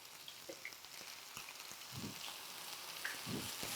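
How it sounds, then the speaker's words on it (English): Flank steak fries in a pan for a Mongolian beef dish, a soft, faint sizzle with scattered pops and crackles and no talking. "we should fry for about 2 to 3 minutes, just to get, you'll see, a nice crisp"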